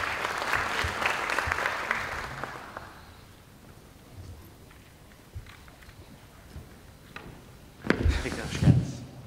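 An audience applauds to welcome Professor Durmuş Günay onstage at a talk; the clapping fades out after about three seconds, followed by quiet room noise and a few thumps and footstep-like knocks.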